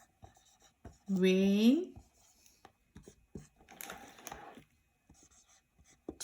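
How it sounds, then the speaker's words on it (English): A name is erased and then written out by hand, giving short scratchy rubbing strokes in bursts, with a brief loud vocal sound and a few spoken words in between. "Erase this and then let me write."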